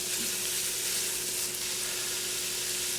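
Meat for prime rib chili sears hard in a hot pan, a loud, dense, continuous sizzle with a faint scrape of stirring, close up and without talk.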